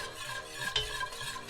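Dark gumbo roux being stirred in a pan, a soft continuous scraping and faint sizzle with a few brief utensil clinks, close and fairly quiet.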